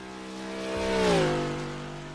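A single race car on a Carvana Cup qualifying lap, its engine note swelling as it approaches and dropping in pitch as it passes close by, then fading.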